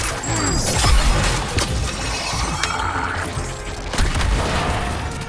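A grenade explosion in Suicide Squad: Kill the Justice League booms loudly, followed by shattering debris, further blasts and rattling gunfire in a chaotic combat mix.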